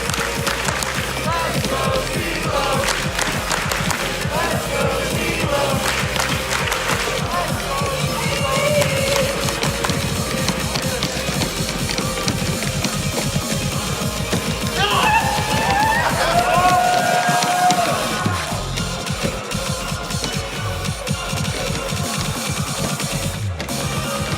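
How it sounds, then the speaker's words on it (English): A crowd at a live speedrun event for the dance rhythm game Pump It Up Phoenix cheers and claps continuously, with game music and an announcer's voice mixed into the loud, sustained noise. "Crowd, let's cheer for Zelo."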